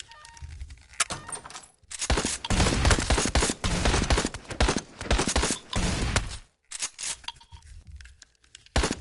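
Gunfire rips through the PSVR shooter Out of Ammo in loud, dense, crackling bursts of rapid shots that stop and start repeatedly, with brief gaps of quiet between volleys.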